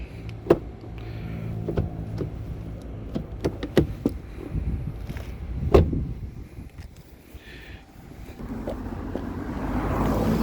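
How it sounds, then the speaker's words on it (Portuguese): Doors of a used car being opened and shut, several sharp thumps and latch clicks spread across the stretch, close by, with some rustling and a rising hiss near the end. "Abertura e fechamento de portas."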